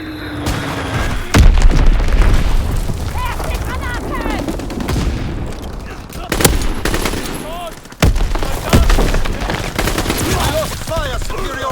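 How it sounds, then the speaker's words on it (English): Bomb blasts and gunfire in a Call of Duty WW2 team deathmatch match: three heavy booming explosions spaced several seconds apart over a constant crackle of rifle and machine-gun fire, with brief in-game voice callouts mixed in. "Enemy bomb incoming. Get to cover."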